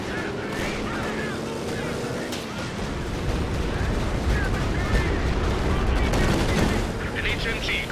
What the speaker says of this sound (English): Oh no, it's strafing support.